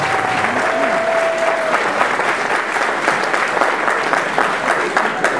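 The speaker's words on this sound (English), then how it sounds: "Give him a big round of applause, ladies and gentlemen" A dinner-dance crowd at the 35th Dinner Dance Club Andretta gives a big round of applause for an honoree, thick continuous clapping from many hands with a brief whistle-like tone early on.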